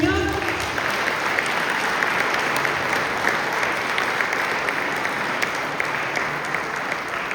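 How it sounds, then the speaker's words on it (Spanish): Church congregation applauding at the close of a service, a dense, even wash of clapping that continues steadily from start to finish, with a voice briefly heard at the very beginning. "¿Puede dar un aplauso al Señor?"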